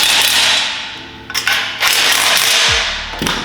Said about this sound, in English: we're just gonna take our drill, or if you have your wrench, and we're just gonna lightly tighten it in